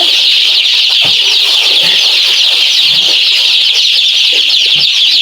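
Frightened baby chicks in a brooder on their sixth day, a constant high chorus of cheeping and peeping from many birds close by, with soft scuffling and bumps underneath.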